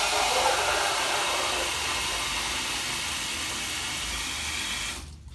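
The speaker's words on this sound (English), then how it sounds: "And then we're going to go ahead and fill up the water." Steady rushing water pours from a tap, filling up for cleaning, with a constant hiss for several seconds, then shuts off abruptly near the end.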